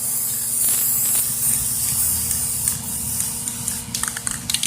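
A can of black spray paint sprays in a steady, continuous hiss close by, with several short bursts near the end as the can runs low.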